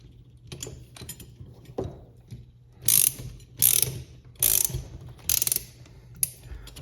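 A wrench ratchets while tightening an aluminum fuel fitting on a square-body truck fuel system, giving four loud, close bursts of quick metallic clicking separated by brief pauses.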